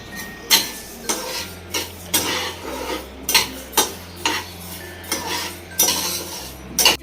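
Fenugreek and coriander seeds dry-roasting in a metal pan, stirred with a spoon that scrapes and clinks in a steady rhythm of repeated strokes, close and moderately loud with a low background hum.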